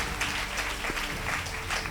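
A church congregation applauds in a dense, steady burst of clapping that fills the room, close and continuous for the whole moment.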